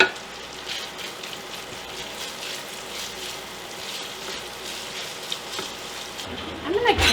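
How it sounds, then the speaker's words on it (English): Lobster cooks in a pan of butter and garlic, giving a steady, close sizzle like light rain, with a clatter of handling near the end. "We're gonna add this garlic to it. And we're just gonna cook this lobster in here for just a quick minute."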